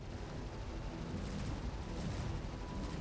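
Star Citizen space battle in which a Star Lancer and a Super Hornet unload their weapons on a ship, a dense, continuous barrage of deep booming fire that rumbles steadily and loudly throughout.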